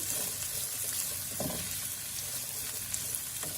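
Something sautéing in a pan, heading toward golden brown, with a steady dense sizzle and a few soft stirring clicks and taps; close, moderately loud, and without speech.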